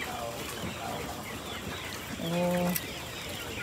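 Dekalb brown chickens in a free-range flock clucking, with a short clear clucking call near the middle over soft outdoor background noise and faint bird sounds.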